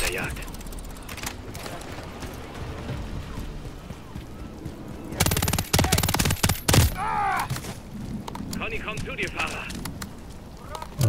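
Bursts of gunfire in Call of Duty: Modern Warfare 3, including a loud rapid volley midway, over continuous game noise and engine rumble.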